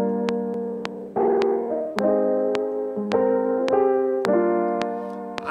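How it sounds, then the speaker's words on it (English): A lo-fi piano runs through the Chow Tape plugin, giving gently wobbling, pitch-drifting chords. Soft rhythmic clicks tick steadily over the sustained, warbling tones. "You can see the wobble effect."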